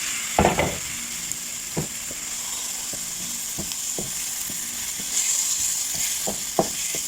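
Ground chicken breast sizzling steadily in a hot pan with seasoning, with a spatula stirring and scraping in repeated sharp knocks against the pan over a constant frying hiss.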